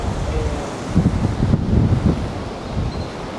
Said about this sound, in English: the sand is against the boulevard and it's going over it because of the high winds